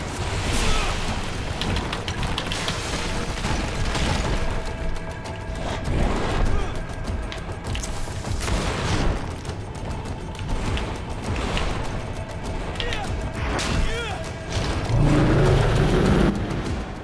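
Bursts of gunfire from a GreedFall combat scene crack out repeatedly over a dense, rumbling game soundscape, with low booms scattered throughout and voices talking at times.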